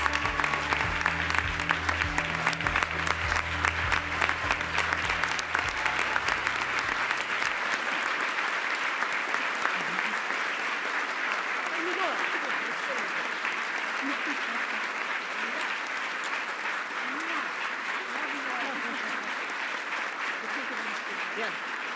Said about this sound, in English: Now, please give them all a big round of applause.